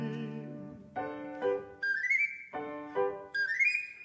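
A bird-catcher's pipe plays bright whistled notes in a short phrase, with rising slides and repeated pitches alone at moderate volume, as in Papageno's aria from Mozart's Die Zauberflöte.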